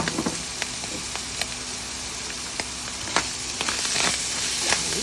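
Ground pork frying in a pan with oyster sauce, for cabbage with ground pork: a steady, loud sizzle with scattered crackles and occasional scrapes of stirring, no talking.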